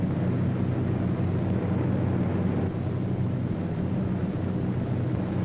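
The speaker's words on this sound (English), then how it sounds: "A formation of 18 B-17s was on its way to attack Rouen." A formation of B-17 bombers in flight gives a steady, low, rumbling drone that holds unbroken throughout.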